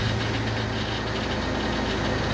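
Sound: car engine started with start button, idling

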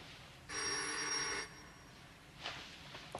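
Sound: telephone ringing

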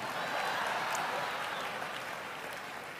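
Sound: audience applause

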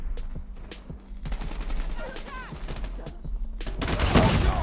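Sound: gunfire from the DR-H rifle in a video game

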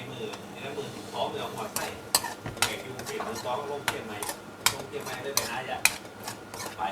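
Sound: stir-frying frog and bird curry until the liquid dries

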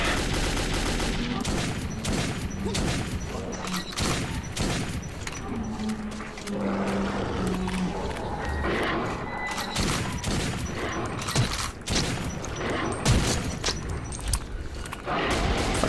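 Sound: gunfire in the video game Metro 2033

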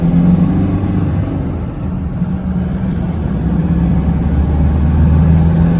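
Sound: 2006 Toyota Vigo lifted pickup, 3.0 turbo engine driving

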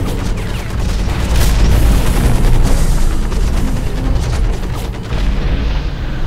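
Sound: rocket explosion in the video game Hawken

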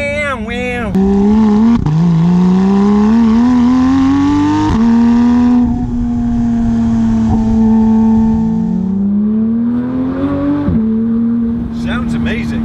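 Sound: Porsche 911 GT3 engine revving with stock exhaust

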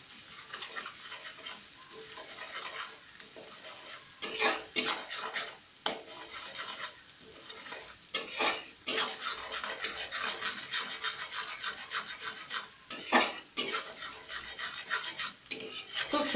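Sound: stirring and sautéing spices in a pan

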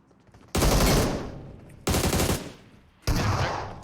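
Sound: gunfire in PUBG Mobile video game

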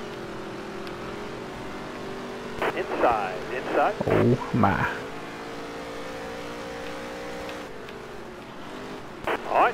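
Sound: race car engines in NASCAR Heat 3 video game

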